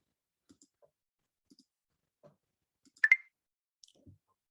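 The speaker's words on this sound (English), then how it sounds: "Then click the update link." A single mouse click on a computer link rings out sharply amid near silence, with a few faint soft taps before and after it.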